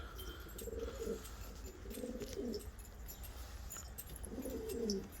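Soft, low pigeon coos come in a few short bursts over a faint outdoor background hiss, with only a few birds present.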